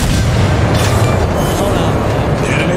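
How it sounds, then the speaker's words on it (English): An enemy battleship blowing up in a World of Warships naval battle, a heavy continuous rumbling boom that stays loud throughout, with speech over it. "The enemy battleship destroyed."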